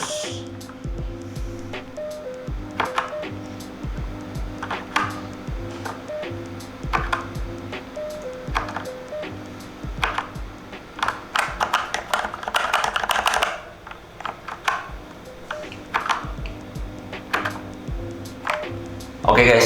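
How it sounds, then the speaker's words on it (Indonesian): Typing on a Digital Alliance Meca Fighter mechanical keyboard with red switches: rapid, uneven clusters of crisp key clacks over steady electronic game tones, growing dense midway before a short pause. "jadi tadi udah lihat kan gue gaming pakai keyboard ini gimana, dan udah ada typing soundnya"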